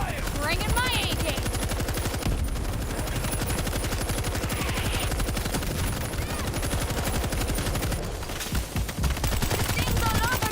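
Rapid automatic AK rifle fire from the zombie shooter game World War Z, loud sustained bursts with game effects layered over it, and voices talking through the action.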